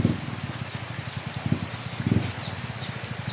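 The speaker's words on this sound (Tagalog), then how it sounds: "Sabi na ulan, no?" Rain falls steadily during flooding in Mindanao, a constant hiss of drops with a soft rhythmic low patter on a nearby surface and no talking.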